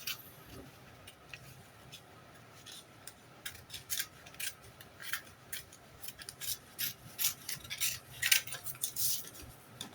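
Scissors cut out a paper dress pattern in a quiet room, giving a string of crisp, close snips and slicing swishes in an irregular rhythm that grows busier and louder toward the end.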